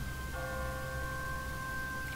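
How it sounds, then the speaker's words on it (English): Bell tolling in The Walking Dead video game, several steady sustained tones ringing together over a low rumbling ambience, moderately loud and continuous, with no speech. "What kind of church bell goes off at 20 past the hour?"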